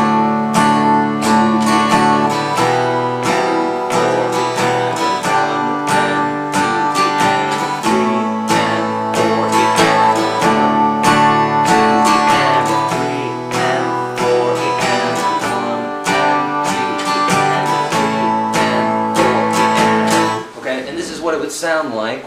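An acoustic guitar strums the chords of a song in a steady, bright, repeating rhythm. The strumming is close and loud, with chord changes every few beats, until a brief scrape at the end.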